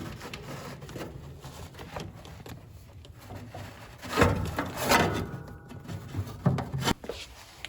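Old insulation is pulled out of a Datsun 240Z interior, with scattered close scraping, rustling and tearing bursts and a couple of louder rips toward the end.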